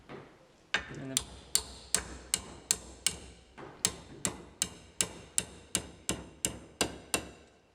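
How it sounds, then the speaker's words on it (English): A hammer repeatedly striking 40-year-old painted sheet steel to bend it along a marked line, about sixteen sharp metallic blows in a steady rhythm, close and ringing, each with a brief decay, after a short pause at the start. "I don't have a sheet steel bender. I have a hammer."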